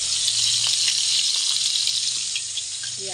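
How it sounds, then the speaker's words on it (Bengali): Flour-battered fish pieces fry in hot oil with a loud, continuous close-up sizzle and hiss that fades slightly toward the end. "তো চলো, তেলও গরম হয়ে যাচ্ছে, এখন একটা একটা করে ভেজে নিই।"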